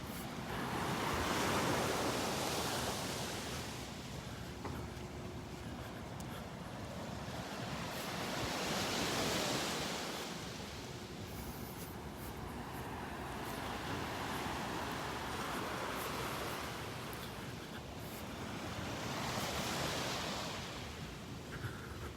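Ocean surf on Vanderbilt Beach in North Naples, Florida, with waves breaking and washing ashore in slow recurring swells about every seven seconds, over a steady wash of wind noise.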